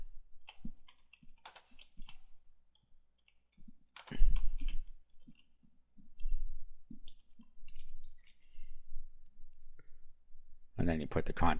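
Scattered computer mouse clicks while a WordPress page is built, faint and spread out across the stretch, with a person talking between and over them.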